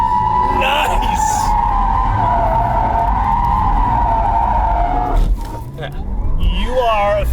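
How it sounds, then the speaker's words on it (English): A 2020 Porsche Taycan electric car drifting on a track with its tires skidding, a loud sustained squeal that wavers in pitch and then breaks off, with talk near the end. "You are officially the only man to drift an electric car"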